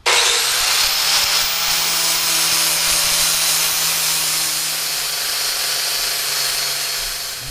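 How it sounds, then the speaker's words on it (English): An angle grinder fitted with a flap disc smooths the welds on a steel Harley sprocket guard, a loud continuous close-up whine and abrasive rasp that holds steady for several seconds, with no voice. "very, very lightly, go over it with the flap disc and let it do all of the work for you"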